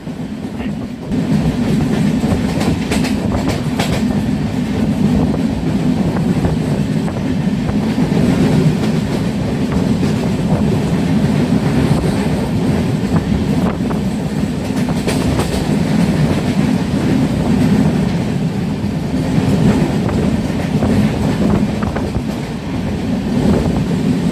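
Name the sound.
train running on rails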